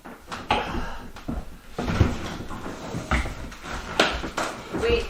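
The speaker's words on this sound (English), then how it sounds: "we're going to be tearing out all the cabinets" Kitchen cabinets being torn out of a 1970s mobile home during demolition: repeated bangs, knocks and wooden clatters at an uneven pace, with people talking throughout.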